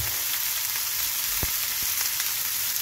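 Prawns fry in a pan for a tomato prawn curry with a steady, fairly loud crackling sizzle, broken by a couple of low knocks or stirs near the middle.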